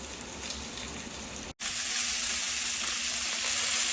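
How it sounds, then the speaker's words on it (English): Smoked meat searing in a pan alongside sautéing mushroom stems, a steady close hiss and crackle of frying that cuts out briefly and then returns louder and denser, with no talking. "now I'm just searing it off"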